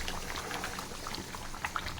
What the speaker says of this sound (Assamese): ঢাকিলে আৰু এইটো উতলি থাকিব